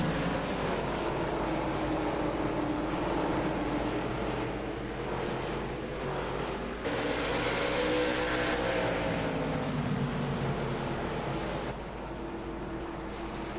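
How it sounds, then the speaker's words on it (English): Race cars circle a track, a constant loud engine roar that swells and fades as cars go past, with no pause over about fourteen seconds. "We currently have 15 cars on track."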